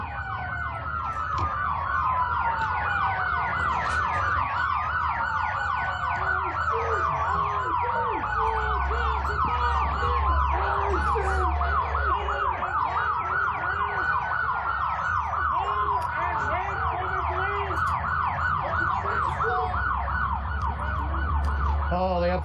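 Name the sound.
emergency vehicle sirens at a protest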